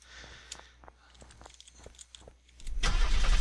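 A police car's engine starts in the video game Unturned. Light clicks are followed by a loud, low rumble as the engine catches and keeps running.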